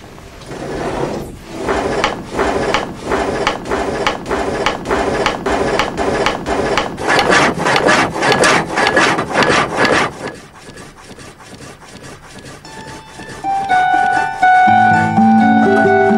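An old sawmill saw cuts through wood at a mountain pass mill, a loud rhythmic rasping of repeated strokes for about ten seconds, then quieter scraping and a higher tonal sound toward the end.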